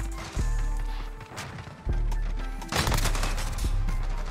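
Encryption MK9 light machine gun in Modern Warfare, sustained automatic bursts with sharp cracks and heavy low thumps, broken by short pauses, close and loud.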